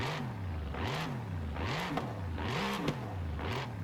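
A Mercedes AMG GT3 race car engine in Forza Horizon 5 revs repeatedly while standing still, rising and falling in roughly four rhythmic blips, steady and close.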